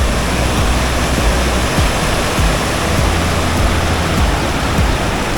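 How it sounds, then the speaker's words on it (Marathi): Water rushes loudly and continuously at Gadeshwar dam near Panvel, a dense, unbroken roar with no other sounds. "पाण्याचा आवाज बघा कसा येतो"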